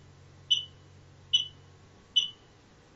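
An Abode home security system alarm tripped indoors, sounding three evenly spaced sharp high electronic beeps about once per second, clear and alone, with a fourth starting at the very end.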